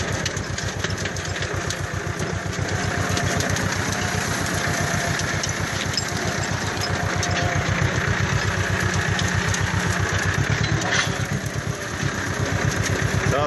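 A small engine runs steadily with a rapid, low thumping pulse, close and loud, holding an even pace the whole time.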